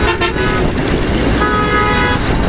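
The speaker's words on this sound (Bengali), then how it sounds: "একটি বাস আমাকে পিছন দিয়ে বারবার হর্ন দিচ্ছে ক্রস করার জন্য" A bus sounds its horn from behind on a busy road, trying to overtake. The blare is loud and close over steady traffic and engine rumble.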